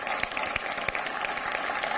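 A crowd at a Hindi poetry event applauds, dense continuous clapping with sharp individual claps standing out, loud and even throughout.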